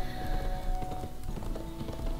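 Horse hooves clip-clop steadily in a German horse riding video game, a continuous rapid trotting rhythm over a tonal music backdrop, with no talking heard.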